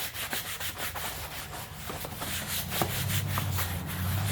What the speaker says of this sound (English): I had to scrub this one a little bit better